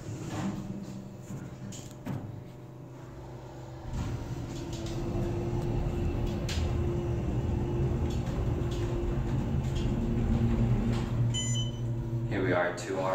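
Otis Series 5 hydraulic elevator with a double chime travelling between floors in an academic building in Venice, Florida: a steady low motor hum and cab rumble that swells after a few seconds, with a brief chime near the end.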